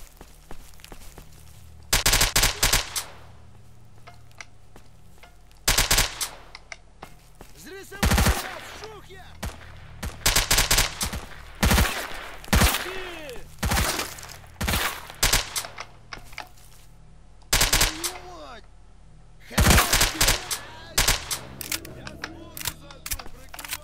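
AK-74 automatic rifle in the Stalker video game, fired in repeated short loud bursts and single shots with gaps between them, while a player talks in the pauses.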